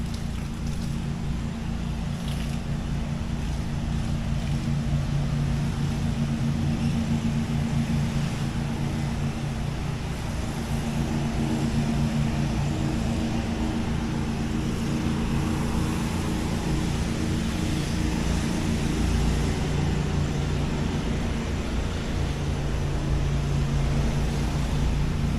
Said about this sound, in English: we'll go quiet for a while so you can hear the sounds of the city